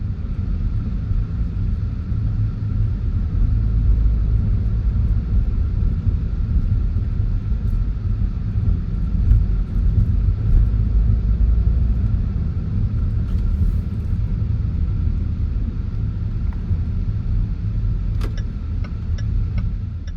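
A car drives through the streets of Lahaina, Maui, with a steady low engine and road rumble that stays even and close throughout, and no voices.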